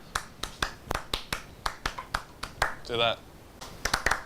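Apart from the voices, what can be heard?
performing Steve Reich's Clapping Music with hand claps/snaps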